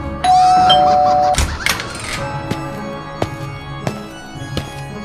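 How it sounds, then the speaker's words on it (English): A two-tone doorbell chime rings loudly at the start, followed by a series of sharp clicks and knocks that carry on alone. "let's ring the doorbell"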